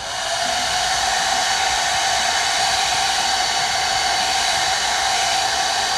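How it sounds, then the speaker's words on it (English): A hair dryer blows steadily and loudly onto a newspaper craft cuff, a constant rushing hiss with no breaks and no voices. "I'm going to use my hair dryer, dry that"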